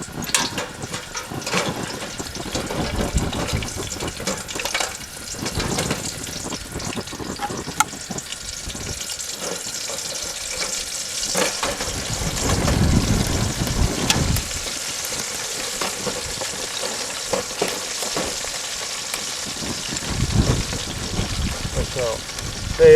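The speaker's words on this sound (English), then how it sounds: "we want to take our traps and get them completely submerged under the wax" Metal traps submerged in a pot of hot wax, giving a continuous bubbling, sizzling hiss with swells and small splashes, close and steady throughout, with someone talking over it at times.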